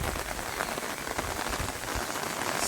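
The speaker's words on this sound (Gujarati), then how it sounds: "વરસાદ સારા પ્રમાણમાં છે" Steady rain pours onto village farm fields and standing water, a dense even hiss of drops with no break and no voices.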